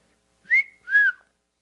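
A person whistles to imitate a whistle, giving two short rising-and-falling tones in a row, clear and close in a quiet room, with no other sound.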